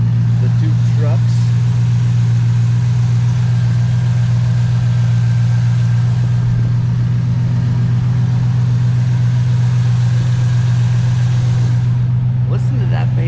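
An old farm truck engine idles loud and close, a steady unbroken low drone with a faint regular knock, running throughout with voices faintly underneath.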